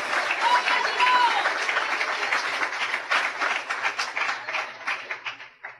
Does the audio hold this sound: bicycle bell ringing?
no